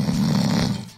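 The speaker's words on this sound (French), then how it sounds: "Bientôt, ses ronflements faisaient trembler les murs." A cartoon ogre snores loudly in a single long, rumbling deep breath that fades out at the end, with no talking.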